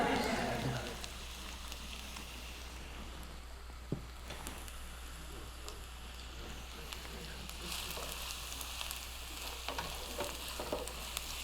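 Shallots sizzle in a hot pan for a mushroom curry, giving a steady soft crackling hiss that goes on throughout at low volume, with a few clinks of a utensil and some speech alongside.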